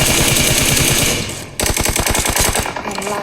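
Rapid automatic gunfire from a PUBG esports scrim match, loud, dense bursts in close succession that pause briefly and then resume in a steady rattling stream.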